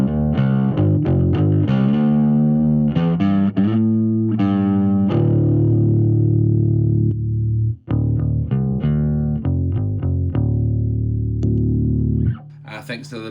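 A bass guitar runs through a distortion pedal powered at 18 volts, giving loud, gritty, sustained notes in a riff of short stabs and held tones, with a brief dropout near the end.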